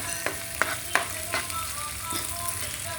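Green chillies sizzling in oil in a pan, a soft continuous crackle broken by a few sharp stirring clinks and scrapes, close and fairly quiet with no talking.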